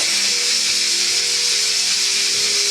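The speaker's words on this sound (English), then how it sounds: "I'm going to go ahead and release the steam" A pressure cooker releases a loud, continuous hiss of steam that rushes out without pause, with a faint low tone beneath it.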